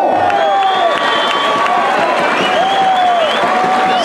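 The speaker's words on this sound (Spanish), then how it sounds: "para quien pido el aplauso" A crowd at a bull-riding rodeo tournament applauds and cheers, a dense, loud wash of clapping and whoops with tonal squeals or whistles rising over it.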